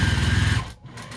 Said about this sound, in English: sew back and forth over this piece of elastic, not through the knot, next to the knot, 3 or 4 times to hold it in